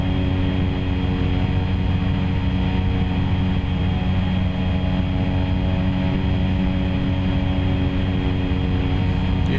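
Aircraft engine in the X-Plane 11 flight simulator game, a loud, steady propeller drone with a constant low rumble and a sustained hum that holds unchanged throughout, with no talking.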